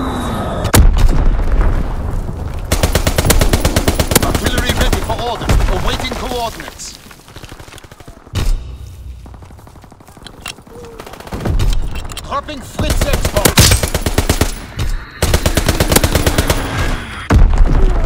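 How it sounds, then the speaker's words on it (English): An aircraft strafing run sweeps a match in Call of Duty: WWII, with loud rattling bursts of gunfire and booms coming in waves amid game chatter and voices, easing briefly in the middle before surging again. "Strafing run inbound."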